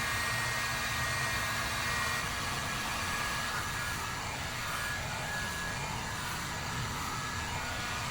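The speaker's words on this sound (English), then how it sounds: "So we're going to see if this heat gun will do the trick." A heat gun runs steadily, blowing hot air onto a part of a custom boat build: a constant, fairly loud broadband whoosh with no pauses and no talking.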